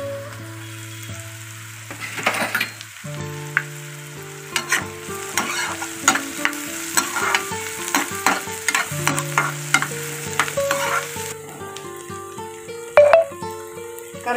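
Green chillies fry in a pan for a bitter gourd curry, heard mostly as repeated spatula clicks and light sizzling under steady background music.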